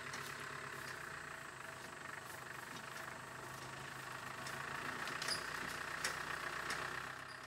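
A military vehicle engine runs steadily as it is brought into a field hide during deployment of a Canadian Forces radio detachment, a continuous mid-distance idling rumble with no voices.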